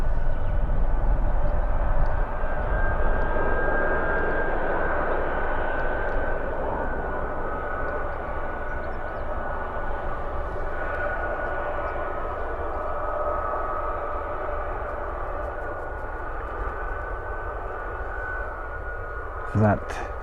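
A Boeing C-17 military transport aircraft climbs away after takeoff, its engines a steady broad roar that starts loud and slowly fades as it recedes, with no talk over it.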